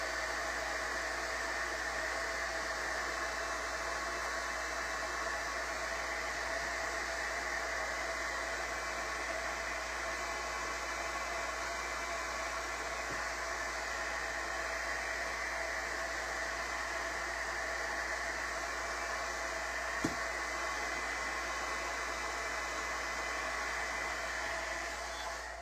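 Steady, loud whoosh of a hair dryer running without a break as it dries a thin napkin on a craft piece, a constant airy roar with no talking.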